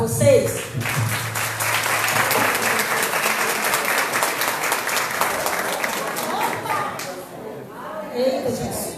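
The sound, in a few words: audience applause at union meeting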